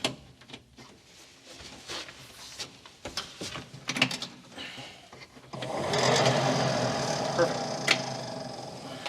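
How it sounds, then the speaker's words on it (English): Heater blower motor in a 1966 car running steadily after a few seconds of clicks and handling noises, a broad even whir filling the second half at close range. "Blower motor works."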